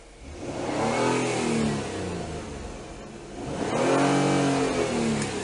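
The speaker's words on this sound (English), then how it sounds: "let me rev the car." A 2004 Nissan Quest S engine revs twice while parked, each surge climbing and then falling back, loud and close with no talk.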